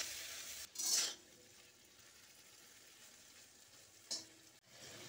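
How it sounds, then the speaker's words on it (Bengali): Shrimp tossed with salt and turmeric in a hot pan give a soft, faint sizzle, broken by two brief scraping stirs near the start and end. "এবার চিংড়ি মাছগুলো দিয়ে দিচ্ছি। দিয়ে দিচ্ছি লবণ এবং হলুদ। একটু নেড়ে চেড়ে দিচ্ছি।"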